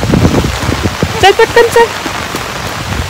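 Rain patters steadily on a large camping-table umbrella, a close, dense drumming under brief hurried speech and a short beeping tone.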